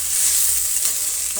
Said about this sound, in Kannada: ಅರ್ಧ ನಿಮಿಷಗಳ ಕಾಲ ನಾವು ಈ ರೀತಿ ಮಿಕ್ಸ್ ಮಾಡ್ಕೋಬೇಕು